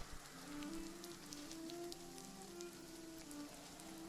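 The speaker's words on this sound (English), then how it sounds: "It's raining, obviously." Rain falling in the game RuneScape: Dragonwilds, a soft steady patter of drops with scattered brighter ticks, heard at low volume beneath a faint sustained musical tone.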